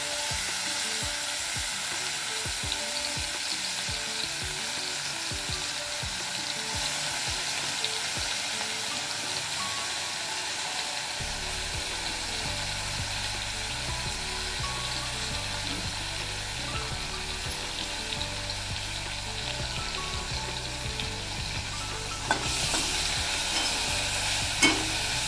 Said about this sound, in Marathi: आता ही भाजूया तेलावर. तेल टाकलं थोडंसं.